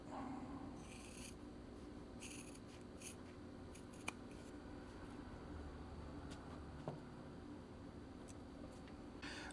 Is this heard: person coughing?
no